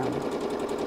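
A sewing machine stitching a purse gives a brief, steady, close mechanical whir with rapid pulsing, alone and unbroken.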